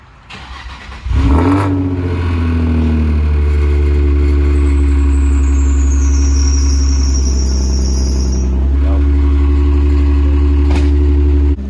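A car with test pipes installed cold-starts: a brief crank catches into a loud, close, steady idle that holds for about ten seconds, with no talking.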